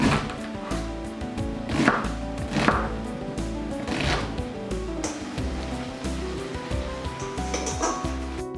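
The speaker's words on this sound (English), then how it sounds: "I'm going to cut up the tomato and throw it in as well" A tomato being chopped on a board for Mallorcan pisto, a few dull knife thuds spaced out under steady background music.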